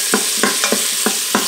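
Bacon sizzles steadily in an Instant Pot on high sauté, with a run of six or so sharp stirring scrapes at a regular rhythm over the constant frying hiss, close up and with no voices.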